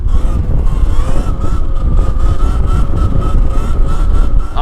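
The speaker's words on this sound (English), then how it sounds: "hit the throttle and away we go." A Surron electric dirt bike running a Torp controller in sport mode accelerates under full throttle, giving a steady, loud motor whine with rushing wind and rumble throughout.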